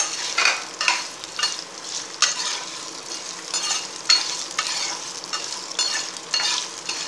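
Ginger frying in a pan with tamarind and coconut pieces, a steady sizzle punctuated by repeated stirring scrapes that swell and fade every second or so, close and clear with no talk.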